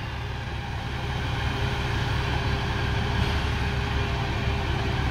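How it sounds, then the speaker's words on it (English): A triaxle tractor truck's engine runs at a logging site with a steady, continuous low rumble, near and unchanging, with no talk over it. "Triaxle tractor."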